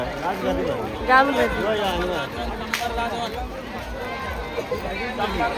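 Dense crowd babble at the Mhasa jatra, a large busy village fair in Maharashtra, with many overlapping voices and footsteps nearby forming a steady close hubbub throughout.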